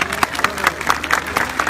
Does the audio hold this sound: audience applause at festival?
yes